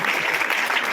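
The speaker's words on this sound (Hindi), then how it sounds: "जोरदार तालियां।" A brief burst of loud crowd clapping at a welcoming gathering for an election candidate, steady and dense for about a second.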